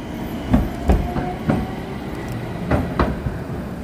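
A tram passes on a city street in Toyama, Japan, with steady rumbling and several rhythmic clacks of wheels over rail joints, fairly close and loud, with no talking.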